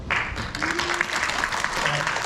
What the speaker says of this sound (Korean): 박수로 하나가 감사의 인사를 대신하겠습니다.